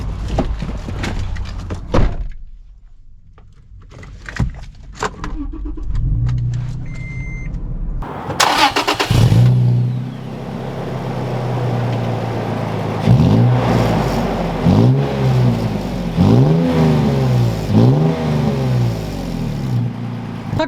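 Toyota FJ Cruiser with a manual gearbox: a door thunks and the engine starts, settles to idle, then pulls away with repeated rising revs between gear shifts, loud and close from inside the cabin.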